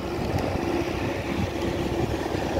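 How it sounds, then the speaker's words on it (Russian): Tractor clearing water from a road puddle, its engine a steady, close rumbling roar with a constant washing rush, no pauses throughout. "Трактор разгоняет лужу."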